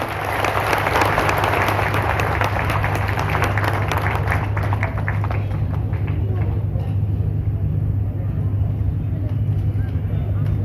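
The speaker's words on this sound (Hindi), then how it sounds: "जोरदार तालियों से स्वागत करें" Loud, dense crowd applause at an old-age home inauguration event greets a guest on stage, a roaring wash of clapping over a steady low hum that thins somewhat in the second half.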